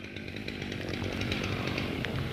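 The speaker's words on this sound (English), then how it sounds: "let's see what they're trying to do right now with the chainsaw" A chainsaw runs steadily while cutting through a fallen tree blocking a road after a storm, a continuous buzzing engine whine at moderate distance with slight load changes, no talk.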